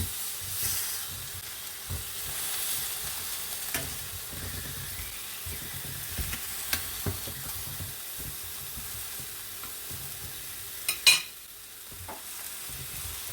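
Chicken frying in a pan for a crispy chicken wrap, a steady close sizzle and hiss with scraping and stirring clatter, a few sharp knocks near the end.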